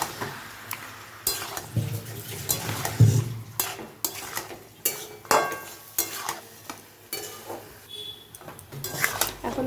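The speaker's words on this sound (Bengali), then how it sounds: "এখন আমি এটা ভালো করে কষিয়ে নিচ্ছি, চাপা দিয়ে দিয়ে কষাতে হবে।" Mutton sautéing with turmeric and Kashmiri chilli powder in a pot, a spoon scraping and pressing it in repeated stirring strokes over a low sizzle, close and fairly loud, with no talking.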